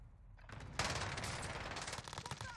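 Rapid automatic gunfire in the Warzone video game, a sustained burst of loud shots that starts after a brief quieter moment and runs continuously to the end.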